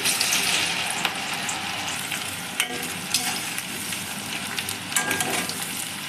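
Taro root (arbi) fries in hot oil in a kadhai for a dhaba-style spiced curry, giving a steady, dense sizzle with scattered crackles and a few sharp stirring clicks, with no one speaking.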